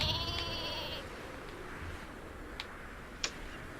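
Cartoonish sheep bleat from the video game Worms, a short wavering bleat at the start, followed by faint ticking and small clicks over a low background hum.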